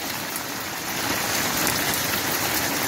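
Rain mixed with hailstones falls outside in Gateshead, a steady dense patter and hiss that swells slightly louder partway through, with no one talking.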